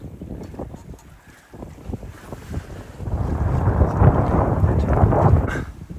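Wind rushes steadily across the deck of a 28ft sailboat alone at sea, gusty and soft at first, then swelling into a louder, sustained roar mixed with water and wave noise; no talking.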